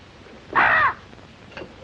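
A crow gives one loud, harsh caw lasting under half a second, followed by a fainter, shorter call, with no other sound nearby.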